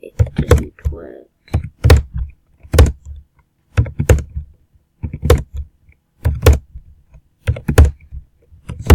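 Fingers strike computer keyboard keys in short, loud clusters of clacking taps separated by silent pauses, very close and recurring about every second.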